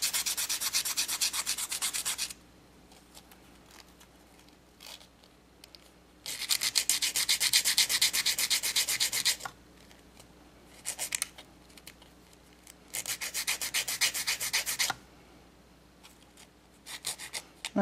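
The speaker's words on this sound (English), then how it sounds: "Now to the top and the bottom sides of your spirals, smoothing them out." A spiral nail being smoothed with a file, with loud bursts of rasping strokes in repeated passes that alternate with quieter pauses, close and alone with no talk.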